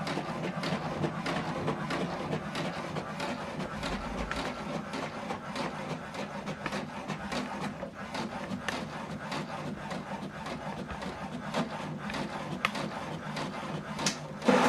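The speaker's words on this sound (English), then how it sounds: "And see it's printing. First one, so the second one is printing." An HP DeskJet printer runs steadily through a document, its feed mechanism giving a continuous rubbing, scraping whir with a regular fine ticking rhythm, close by and without talk.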